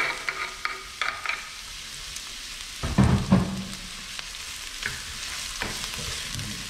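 Onion and garlic hit hot oil in a pan, a sharp burst of sizzling with stirring clatter around the middle, then a steady close crackle and hiss of frying.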